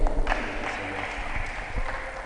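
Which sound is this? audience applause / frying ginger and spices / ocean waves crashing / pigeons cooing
audience applause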